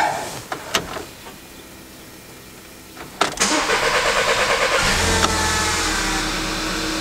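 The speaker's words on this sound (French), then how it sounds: "La voiture tourne" After a few clicks, a Volkswagen Passat 2.0 TSI engine cranks briefly and fires following a water pump replacement, then settles into a steady, close idle.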